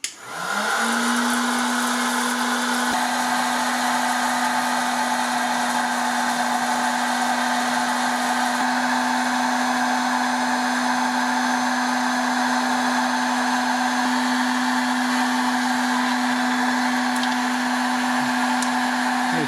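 A Silvercrest popcorn machine runs with a steady, loud electric whir and a constant motor hum, starting up abruptly and droning evenly without pause.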